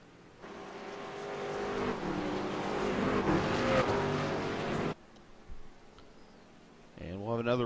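Race trucks in a sim racing series roar off pit road as a loud, dense engine drone that builds, holds for several seconds, then cuts off abruptly, leaving a quieter engine bed with a voice talking at the end.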